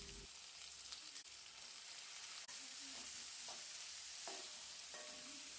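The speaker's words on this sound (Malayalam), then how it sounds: "സവാള സ്പൂൺ ഉപയോഗിച്ച് നന്നായി ഇളക്കി നന്നായി" Sliced onions sizzle steadily in a hot pan while a spoon stirs and separates them, with a few soft scraping knocks rising over the constant frying hiss.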